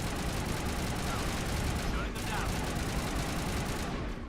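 Video game weapon fire in Mass Effect, a gun loaded with shredder rounds, heard as a continuous dense rattle of rapid shots with no break in the noise.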